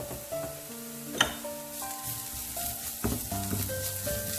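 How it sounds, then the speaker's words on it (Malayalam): Tomato chutney with a pinch of chicken masala powder sautéing in a pan, giving a steady close sizzle and frying crackle with stirring scrapes, alongside a soft background melody. "നന്നായി വഴറ്റു. ആ പച്ചമണമൊക്കെ ഒന്ന് മാറണം."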